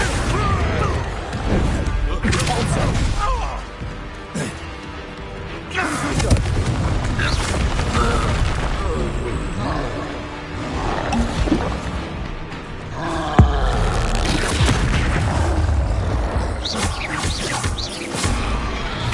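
Spell explosions from Bombarda in Hogwarts Legacy, a series of loud booming blasts and crashes layered over dense game music and effects, with voices speaking between the impacts.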